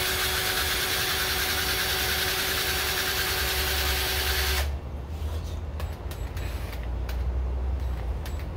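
A spin art machine whirs with a steady motor hum and high whine, then slows and cuts out midway, leaving a low rumble and a few small clicks and knocks, with no talk.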